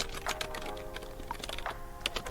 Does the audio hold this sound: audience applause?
no